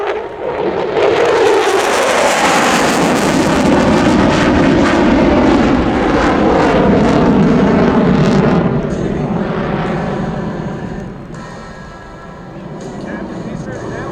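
A USAF F-16 Fighting Falcon performs a combat capability demonstration at the Rochester air show, its jet roar sweeping loudly overhead with a shifting whine and fading, while an announcer talks over it.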